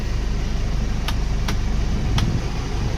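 The engine of a 2006 Nissan Frontier King Cab pickup runs at a steady idle, a loud, even low hum with a few faint clicks over it.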